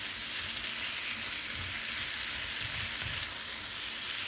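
Zucchini stir-fry sizzling in a pan, a dense, even hiss of frying held at a constant level close by, with no voices.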